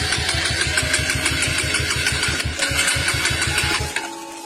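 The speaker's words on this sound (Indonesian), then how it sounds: "tiba-tiba motor aku macet" A motorcycle engine sputters and chugs in a rapid irregular rhythm, failing to start, then cuts out near the end.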